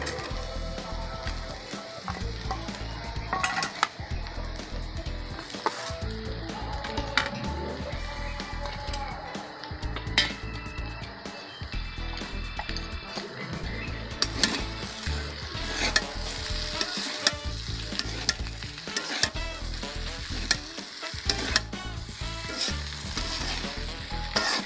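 Fried vegetables go into sago khichuri in a pan and are stirred, giving a steady close sizzle broken by repeated rhythmic scraping strokes, with no voices.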